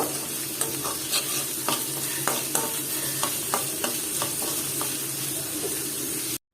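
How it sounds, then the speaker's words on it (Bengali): Onions and fish-frying spice are stirred in a hot pan, a steady sizzle broken by repeated scraping strokes of the spoon at a regular rhythm, close and alone, then cut off at the very end. "আর এটাকে এখন নেড়ে চেড়ে দিচ্ছি মশলাটা পেঁয়াজের সাথে মাছ ভাজার যে মশলাটা ছিল"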